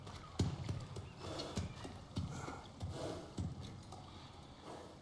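In the God of War Ragnarök video game, a kelpie, a horse-like creature, plods along with soft rhythmic clip-clop hoofbeats under faint background ambience, with a quiet whinny mixed in.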